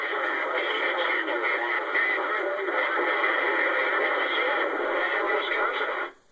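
Steady, harsh static from a CB radio on AM, garbled with buzzing adjacent-channel interference, continuing without pause before cutting off abruptly.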